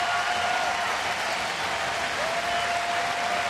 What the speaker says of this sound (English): A very deserving round of applause right there.